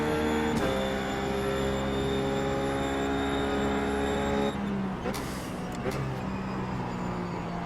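Ruf GT3 race car engine at Sebring in a racing sim, a loud sustained droning engine tone with shifting pitch and gear changes near the end.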